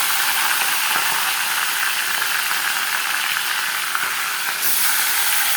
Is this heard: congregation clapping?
no